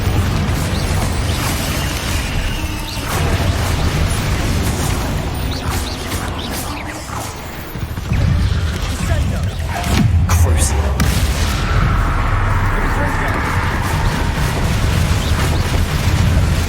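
Spell blasts and explosions in the Hogwarts Legacy video game, loud booming bursts and crashes in rapid succession over a dense battle din, with a character's voice calling out over the fighting.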